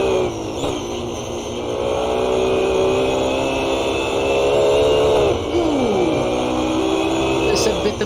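A BMW Z4 race car engine in a racing video game at Monza whines loudly and steadily, its pitch rising and dropping through gear changes while commentators talk over it.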